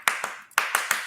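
Sharp hand claps land on a steady beat, five distinct smacks in about a second with a brief gap midway, close and crisp in a casual room with no speech over them.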